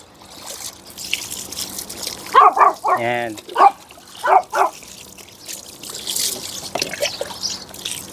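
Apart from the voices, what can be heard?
shower water running on dogs being bathed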